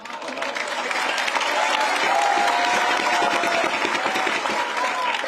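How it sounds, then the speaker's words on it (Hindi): A crowd at a Rajasthan election rally claps loudly and continuously, swelling into sustained applause with some cheering mixed in, close and dense throughout. "ताली जोरदार बननी चाहिए"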